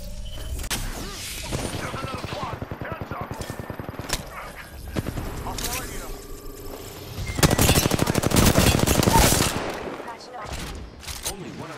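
Weapon fire in the Apex Legends video game, rapid automatic bursts crackling close and loud with mechanical clicks between, heaviest sustained volley near the end.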